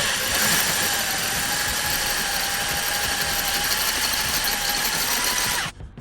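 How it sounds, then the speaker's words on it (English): A steady, high-pitched mechanical whine from a power drill drilling out a metal battery bracket on an Alfa Romeo Giulietta, running continuously for several seconds, then cutting off abruptly near the end. "now I can drill them out"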